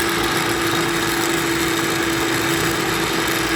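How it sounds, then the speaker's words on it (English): A blender motor runs loud and steady as it grinds pecans into pecan butter, a constant whirring drone with a strong motor hum and no pauses. "you can hear the change in the RPM, pulling more power now because more of the nuts are falling on the blades."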